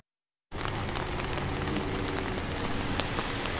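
Chilly rain driven by wind patters and hisses steadily on surfaces after a brief silence, a dense, even wash of drops close by with no talk.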